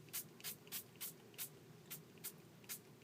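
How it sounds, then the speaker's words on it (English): Brown spray paint hissing from an aerosol can in short bursts, about ten quick sprays in a steady rhythm, close and fairly faint, used to antique a homemade Christmas ornament. "So now I'm going to take my sprays, brown."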